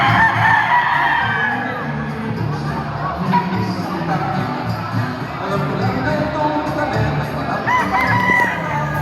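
Several gamecocks crow at a gamefowl show in Samal, over a busy background of chatter and crowd noise, calls overlapping and fairly loud throughout.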